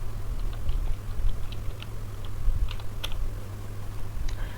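Light keystrokes tapped on a computer keyboard while entering a sudo docker stop command, a scattered run of soft clicks over a low steady hum.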